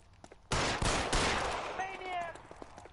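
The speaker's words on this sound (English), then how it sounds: "he's running around shooting a gun" Gunfire in LA Noire: a sudden loud burst of several shots in quick succession that decays into echoing noise and a faint trailing tone, with quiet background sounds before it.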